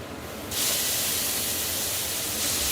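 A sudden loud sizzle bursts out as preserved soy beans hit a hot pan, then settles into a steady hiss that swells again near the end.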